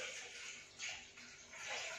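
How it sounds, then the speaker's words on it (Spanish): A litre of fish stock pours into a Thermomix bowl while making a brothy mussel rice, a quiet, steady liquid rush lasting a couple of seconds. "Vamos a echar el litro de caldo de pescado."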